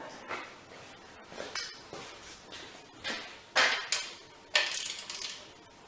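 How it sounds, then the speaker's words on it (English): A ratchet working a bolt loose on a Victa 375 lawn mower, heard as a series of short, close metallic clicks and clunks in uneven bursts, growing louder toward the end, with no talking. "gonna need a ratchet for that though"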